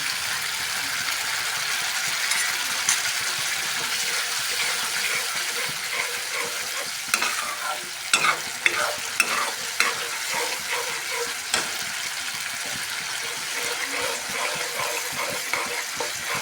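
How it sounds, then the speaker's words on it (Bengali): Spice paste for eggplant masala is slowly cooked down in a pan, a steady, bright sizzle running for the whole stretch while intermittent spoon scrapes and clinks come and go, busiest in the middle, with no talking. "একটু সময় নিয়ে ধীরে ধীরে মশলাটাকে আমি কষাচ্ছি"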